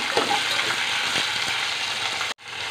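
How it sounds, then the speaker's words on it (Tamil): Carrot, tomato and capsicum sauté in a pan with a loud, steady sizzle and occasional stirring scrapes, and the sound cuts off abruptly near the end. "கேரட், தக்காளி, கொடமிளகாய் போட்டு நல்லா வதக்கி விட்டு வேக வைக்க போகிறேன்."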